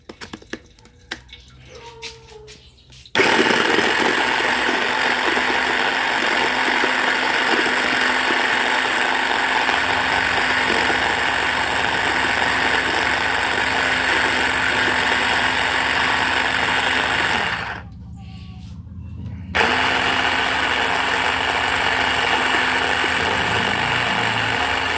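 A loud, steady motor whir runs for a long stretch, dropping out briefly twice, like a blender running with short pauses.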